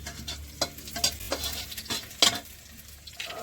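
Garlic and green chillies frying in a pan, a steady close sizzle with scattered spoon-stirring scrapes and crackles, no voices.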